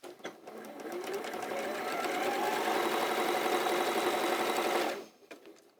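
A sewing machine stitches a seam along a quilt block edge, running in one continuous rapid whirring burst of about five seconds before stopping, close and steady.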